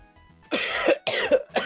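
A person coughs twice in quick succession, then starts a third time, each burst loud and close, with a quiet pause between the first two.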